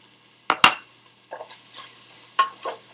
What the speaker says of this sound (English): we're going to let this saute for about 30 seconds